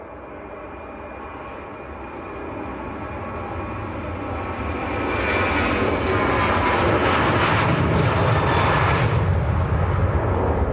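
A TUI airliner takes off for Corfu from Leeds Bradford Airport, its deep jet roar steady and broad before swelling louder midway and holding as a heavy, rumbling thunder, with no talk over it.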